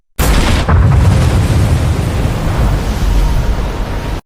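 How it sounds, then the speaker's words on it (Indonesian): A deep, roaring explosion collapses a cliff and rumbles on as a sustained heavy crash of collapsing debris, loud and close, fading only at the end. "air bah langsung menyapu seluruh kelompok setelah ledakan itu meruntuhkan tebing"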